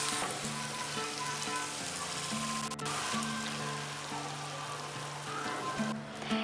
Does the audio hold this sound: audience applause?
no